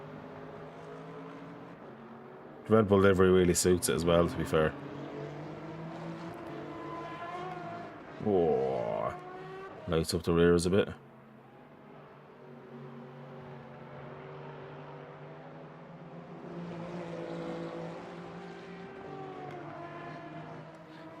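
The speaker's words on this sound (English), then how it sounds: "there's the sound of that Aston Martin is beautiful" An Aston Martin race car in a Le Mans racing game roars past in two loud, close engine bursts, with quieter engine drone between them, while someone talks over it throughout.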